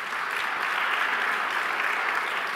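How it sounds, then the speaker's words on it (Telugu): An audience at a Christian sermon gathering claps hands, a dense, steady burst of applause lasting a few seconds with no break. "చప్పట్లు కొట్టండి గట్టిగా."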